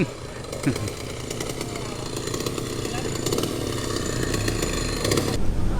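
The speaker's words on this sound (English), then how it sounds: "Gentleman right here operating a chainsaw off to the port side of the aircraft." A chainsaw engine drones steadily throughout, loud and close, operated beside an aircraft in the Philippine mountains, with a brief voice near the start and a rising whine toward the end.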